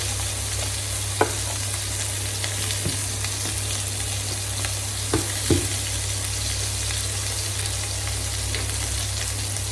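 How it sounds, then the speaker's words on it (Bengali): Prawns frying in oil with chili, a dense, even sizzle held close and steady, broken by a few soft taps of a utensil, with no talking. "এটাতে চিংড়ি মাছ ভাজার মধ্যে হালকা করে একটু লঙ্কা দিয়ে দেবো।"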